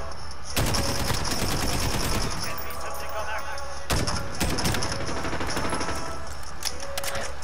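Loud, sustained automatic gunfire from Call of Duty Modern Warfare, dense bursts starting after half a second, a brief pause near four seconds, then more continuous rapid firing.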